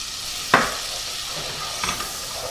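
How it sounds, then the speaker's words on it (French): Flour hits melted butter for a Tuscan chicken lasagne roux, giving one sharp sizzling burst followed by a steady soft frying hiss with faint stirring scrapes, close and without talk. "mon beurre est fondu. Je vais y ajouter donc la farine"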